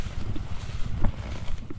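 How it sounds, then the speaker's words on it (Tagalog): A small farm engine runs in a rice field setting, a steady low rumbling drone with slight irregular pulses, close and loud, with no talk. "pinandar na natin yung makina ni Arnel"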